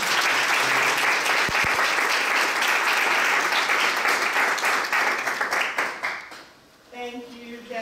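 A lecture audience bursts into sustained applause to welcome a speaker, dense clapping that fades out near the end before a voice begins talking.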